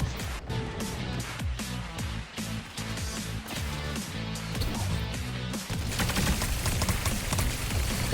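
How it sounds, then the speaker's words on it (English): Overwatch pulse pistols fire rapidly in Fortnite, a dense, continuous burst of quick gunshots over game sounds, loud and relentless throughout. "Rapid fire pistols with a blink and recall ability to send you back in time."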